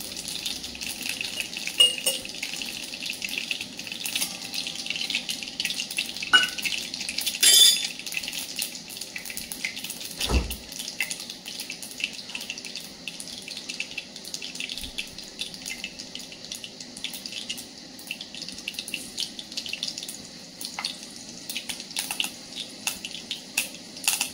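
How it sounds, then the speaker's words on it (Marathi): Water runs and splashes into a cooking pan holding mustard seeds, a soft steady hiss that carries on throughout with a few light knocks, fairly faint and with no talking. "इथं पाणी टाकून घ्यायचं"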